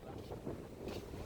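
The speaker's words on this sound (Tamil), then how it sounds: "நல்லா காற்று நல்லா இருக்குது." Wind gusts across the microphone at Poonagari beach in Mannithalai, Sri Lanka, making a low, rough, buffeting rumble with brief swells, fairly faint and continuous.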